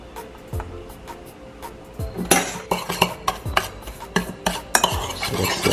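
Paprika being stirred into a homemade dry herb and spice rub, a few quiet taps at first, then a busier run of scraping, clinking spoon-on-bowl strokes, close up with no speech.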